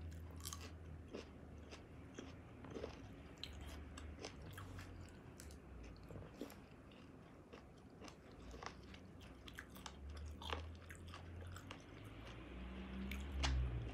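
Someone chews Japanese melon up close, with steady wet bites, squishing and crunching that go on throughout, and no talking.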